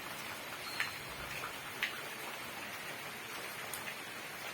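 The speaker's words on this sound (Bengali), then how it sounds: "এই যে দেখুন বৃষ্টি এখনও হয়েই যাচ্ছে" Rain keeps falling after days of steady downpour, a soft, even patter with a few sharper drips ticking on a nearby surface.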